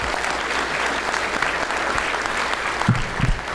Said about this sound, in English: let's give the Hall of Fame organizers a big round of applause to carry this tradition.